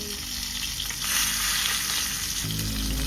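Fish frying in oil in a pot, a loud steady sizzle and crackle that swells briefly, with soft stirring or shifting noises underneath.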